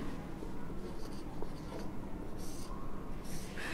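Pen strokes scratch across paper as a teacher enters figures in an accounting ledger, a steady close scratching with brief pauses between strokes and no talk.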